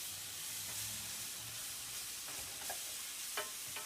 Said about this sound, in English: you want to make sure that you're always stirring frequently enough.